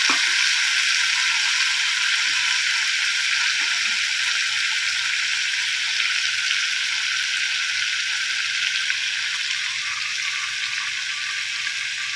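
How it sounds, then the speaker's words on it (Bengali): Mustard paste added to hot oil in a wok with dried red chillies and nigella seeds gives a loud, steady, close sizzle that holds evenly throughout, with no voices. "সর্ষে বাটাটা কড়াই দিয়ে দিলাম।"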